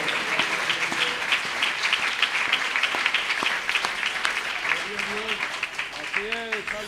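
A church congregation at a worship service breaks into sustained, dense applause, loud and continuous throughout, with scattered voices and cheers mixed in.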